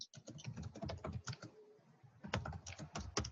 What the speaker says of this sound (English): I'm typing this out